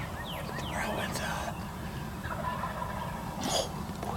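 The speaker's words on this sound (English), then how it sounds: "Some turkeys gobbling behind us already." Wild turkeys gobble behind hunters on an Ontario turkey hunt. The rattling calls come from a distance through steady outdoor background noise, under quiet whispered talk.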